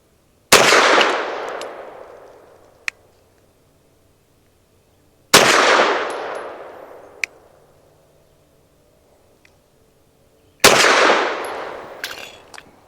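Three loud pistol shots from a Ranger Arms RA9 firing S&B Exergy 100 grain 9mm rounds, spaced about five seconds apart, each a sharp crack with a decaying echo and faint clinks between.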